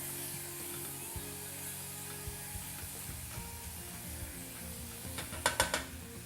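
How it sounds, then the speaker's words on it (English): A wooden spoon stirs an apple juice mixture in a hot pan, bringing a continuous soft sizzle and scraping strokes that build into a few louder scrapes near the end. "you need to stir this continuously so that nothing sticks to the bottom of the pan"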